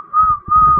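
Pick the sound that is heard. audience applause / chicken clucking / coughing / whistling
whistling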